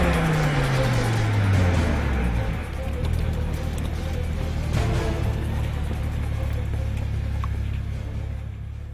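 An Audi R8 5.2 FSI Quattro on a test track, its engine a steady loud drone with a falling engine tone in the first two seconds, then continuous road and engine rumble throughout.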